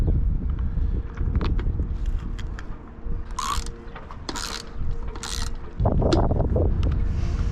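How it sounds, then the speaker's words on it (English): Bolts being screwed onto a camera bracket aboard a sailboat, heard as close ratcheting clicks and metallic mechanism sounds over steady background noise, with a few brighter rattling bursts and a louder clunk near the end. "So let's start screwing some bolts."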